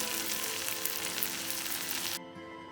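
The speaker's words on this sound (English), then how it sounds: "Let's finish the stir fry by adding 1 tablespoon fish masala" Prawns sizzle and fry hard in a hot pan with fish masala, a loud, even crackle that runs steadily before dropping off abruptly near the end.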